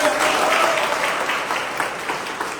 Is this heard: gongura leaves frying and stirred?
no